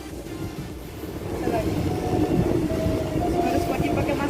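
A passenger train rumbles steadily along as it approaches Minangkabau International Airport station, heard from inside the carriage with a continuous low rolling drone, faint squeals and light rhythmic clatter growing slightly louder partway through.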